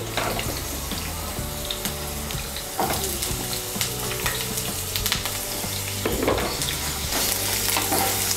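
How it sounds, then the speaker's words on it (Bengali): Drumsticks and potatoes fry in a pan with a loud, continuous sizzle and crackle, broken by a few sharper stirring scrapes and clatters nearby, with no talking. "সজনে ডাঁটাটা দিয়েও সজনে ডাঁটাটাকেও আরেকটু ভেজে নেব।"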